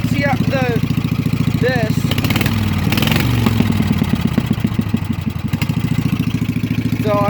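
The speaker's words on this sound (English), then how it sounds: "I hope you guys can hear me over the open headers" A mud mower engine with open headers chugs loudly close by in a fast, even pulse, briefly rising and falling in pitch, while someone talks over it.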